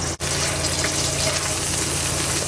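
A pot of water boiling for hotdogs gives off a steady, dense bubbling hiss that holds at an even level with no break, close and moderately loud.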